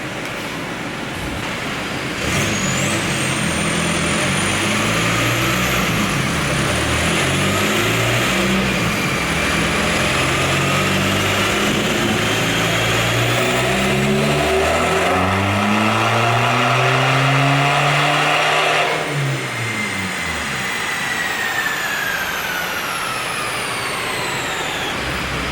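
A VW TDI diesel with an upgraded turbo running on a dyno, loud and close, the engine revving steadily up through the gears with rising turbo whine before the throttle lifts and it winds down.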